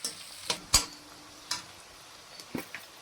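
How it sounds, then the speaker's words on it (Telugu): Sliced onions and long-cut green chillies fry in a pan as a spoon stirs them, with occasional sharp metallic clinks and scrapes over a faint, steady sizzle, close by and without talk. "ఇవి కూడా కొంచెం కలరు ఎర్రగా వేగేటట్టుగా వేయించుకుందామండి"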